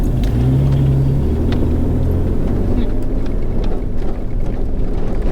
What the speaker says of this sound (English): we just had 5 army trucks go past us